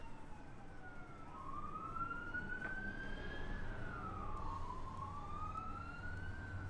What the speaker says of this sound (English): It's a fire truck and an ambulance.